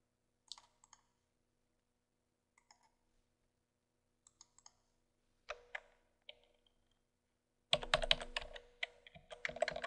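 Clicking of computer keyboard keys as cost code details are entered into an invoice approval system in an office, coming in short sparse bursts before a faster, louder flurry of typing near the end.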